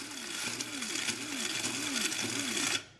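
Electric grinder pulverizing coffee beans for home cold brew, a loud steady whirring motor with a rhythmic pulsing wobble, running alone for nearly three seconds before cutting off abruptly.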